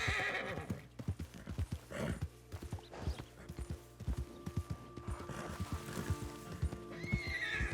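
Horse in Red Dead Redemption 2 neighing while its hooves clip-clop in a steady, close rhythm through the whole stretch, with no talk over it.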